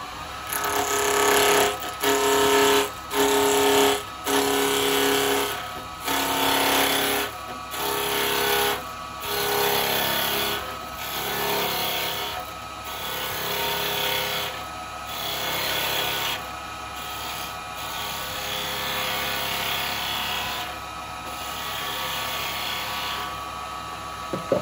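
A woodturning lathe spins a small cherry maple pendant blank, giving a steady whirring drone that pulses with loud bursts as the cutting tool bites in and out of the wood, heard alone with no talking.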